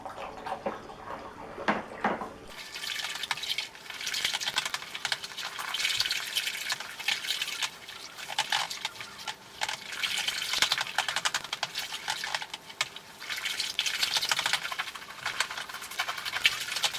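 Additive being stirred into wine must, a steady sloshing, swirling liquid sound that carries on for most of the clip after a short quieter start, close and fairly loud with no talk.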